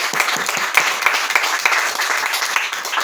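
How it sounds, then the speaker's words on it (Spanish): Audience at a book presentation applauding, a dense, steady round of clapping from a roomful of people, fairly loud and close, with little talk. "Un aplauso."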